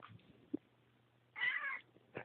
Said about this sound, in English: That's Luke's cat.